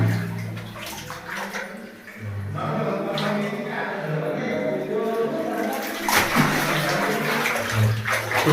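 Water running steadily in a temple setting where forest department staff are catching a python, with a continuous flowing wash throughout and people talking over it.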